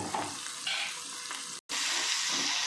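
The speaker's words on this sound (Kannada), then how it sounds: "ಸ್ವಲ್ಪ ಫ್ರೈ ಆಗಲಿ" Crushed garlic and ginger-garlic paste sizzle in hot oil for mango pickle, a steady close frying hiss with faint stirring scrapes, broken once by a brief dropout of silence.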